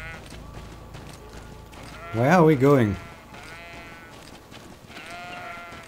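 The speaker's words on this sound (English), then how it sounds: "Sheep." A single loud, wavering sheep bleat from the video game GreedFall sounds amid quiet in-game ambience, and a voice talks just after.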